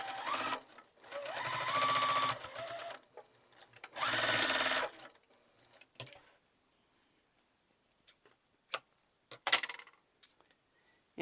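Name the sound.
sewing machine stitching bowl cozy darts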